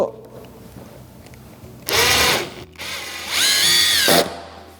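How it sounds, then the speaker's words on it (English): A power drill drives a screw into wood in two bursts, a short whirr and then a longer one that rises and falls in pitch, loud and close with quiet gaps around them. "First screw going in."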